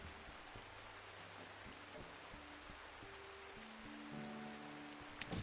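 Soft, steady rain hissing down in the colony-building game RimWorld, a faint even wash of drops with a quiet melodic music bed playing over it throughout.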